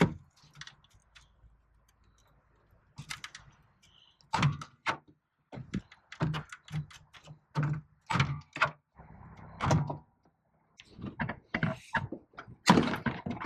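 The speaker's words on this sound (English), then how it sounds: "There's some plastic fasteners holding right here, here, and here. There's 4 of them. Get a little pry bar underneath there." A small pry bar pops plastic fasteners loose from the engine shroud of a Ram 6.7L Cummins, giving a scattered series of sharp clicks, snaps and scraping knocks at close range with short pauses between them.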